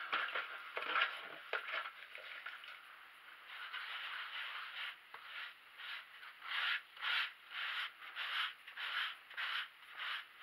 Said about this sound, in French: Alors on prend l'éponge et on n'hésite pas. On passe dans tous les coins, dans le sens circulaire.